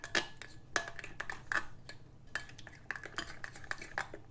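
A utensil stirs masala for tawa paneer in a metal pan, giving sharp repeated scrapes and clinks in an irregular rhythm, close and moderately quiet, with no voices.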